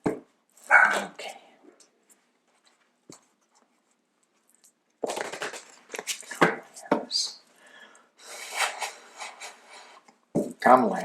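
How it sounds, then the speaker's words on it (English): A dog barks in short excited bursts indoors, with a person talking between and over the barks and a quiet gap midway. "My alien dog is going crazy."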